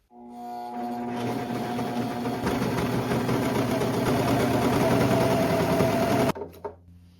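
A sewing machine stitches a garment alteration on thrifted clothing, running as a loud, continuous mechanical whir for about six seconds before it stops abruptly, followed by a couple of faint clicks.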